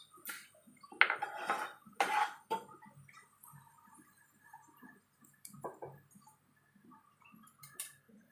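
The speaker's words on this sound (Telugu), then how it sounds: "ఇవన్నీ ఒక బౌల్లోకి తీసుకుంటాను. నూనె రాకుండా తీసుకోండి." A slotted spoon scrapes and clinks against a pan and bowl as golden fried Telugu savoury snacks are lifted out of hot oil, a few sharp metallic knocks early on, then scattered softer taps and faint rustles in a quiet kitchen.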